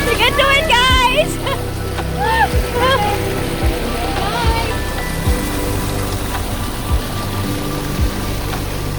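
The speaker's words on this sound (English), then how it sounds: "There's a lot of mini waterfalls where you can enjoy." Rushing water from a rocky Hong Kong stream with small waterfalls keeps up a steady broadband hiss, while voices talk and call out over it early on.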